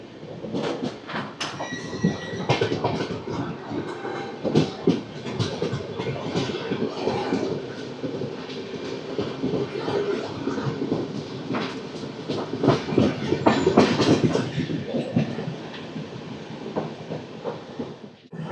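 Golconda Express passenger train running from Guntur toward Secunderabad, heard from inside a D1 coach: a continuous loud rumble with rhythmic clickety-clack of wheels over rail joints and occasional squeals, steady throughout.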